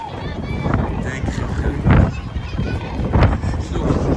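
Wind buffets a microphone outdoors in a cold, rainy London queue, giving a steady rumble with two louder gusts, while people talk close by.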